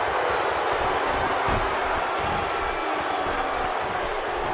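Wrestling crowd cheering in an arena, a dense, steady roar of many voices with occasional whoops and claps, continuous and loud throughout.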